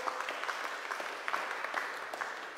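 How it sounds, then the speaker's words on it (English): Congregation applauding a child's birthday during a Sunday church service, a soft, steady patter of many hands clapping at moderate distance, fairly quiet and continuous, with a faint voice underneath. "Yeah, round of applause."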